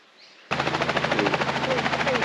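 A helicopter thumps in suddenly and loudly in the Kimberley, Western Australia, its rapid, steady rotor chop pulsing close overhead with a high whine above.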